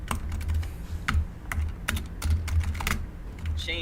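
Close, continuous clatter of a computer keyboard during an STC World Championship match, keys struck in rapid irregular bursts at a steady, fairly loud level.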